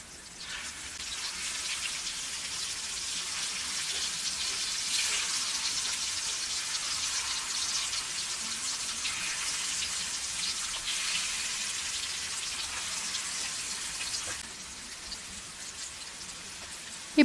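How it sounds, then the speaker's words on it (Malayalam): Fish frying in coconut oil in an iron pan gives a dense, even hiss and spatter that holds steady for most of the stretch, then eases a little toward the end, with no voices. "എണ്ണ ചൂടായ ശേഷം മീൻ ഓരോന്നായി ഇതിലേക്ക് നിരത്തി കൊടുക്കാം"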